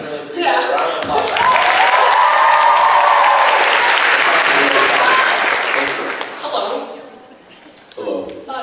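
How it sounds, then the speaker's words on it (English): A convention crowd at a Q&A panel bursts into loud, sustained applause for several seconds, then the clapping tapers off into scattered claps and murmurs. "Round of applause."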